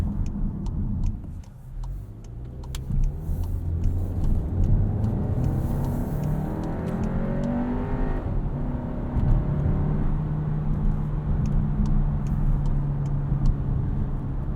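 A 2021 Volkswagen Arteon SEL Premium R-Line driving with the transmission in sport mode gives a steady engine hum and road roar that rises through a gear, then settles into a sustained drone, heard from inside the cabin with no talking.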